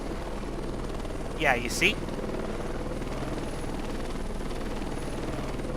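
A military helicopter in the Heliborne combat flight game drones steadily from start to finish, a continuous rotor and engine rumble, while someone briefly speaks over it.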